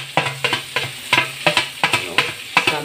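Sisig sizzles on a hot griddle as a metal ladle stirs and scrapes it in quick, regular strokes, each scrape ringing out close over the steady frying hiss.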